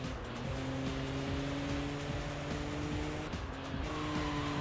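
In Sega GT 2002, a BMW M3's engine drones steadily at high revs with brief pitch drops at gear shifts, while its tires squeal and skid through the corners, all under a loud, continuous racing wash.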